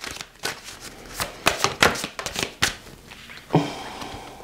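Oracle cards being shuffled by hand before one is drawn, a series of close papery riffles and slaps in irregular bursts, ending with a softer rustle, no talk.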